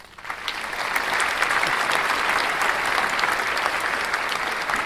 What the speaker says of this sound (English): Let's hear an applause for the KangStephReacts family,